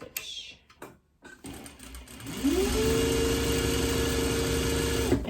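A domestic sewing machine runs a long gathering stitch along the edge of fabric for 1860s Civil War skirt trimming, starting after some handling noise and then holding a steady, close mechanical hum and whir to the end.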